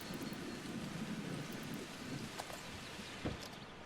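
Rain in the video game VEIN: a steady, fairly quiet hiss of falling rain with soft spattering and a few brief patters near the end.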